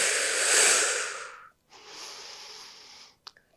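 Two forceful exhaled breaths during a yoga twist, a long loud hissing one followed by a shorter, softer one, then a few faint clicks.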